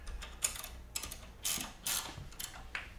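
Tightening a bolt on a Hopkins screen printing press gives close, short ratcheting clicks and metallic rasps in irregular bursts, with no voices.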